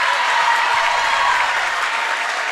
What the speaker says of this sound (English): the small but vociferous Crusader crowd, they're loving the defense here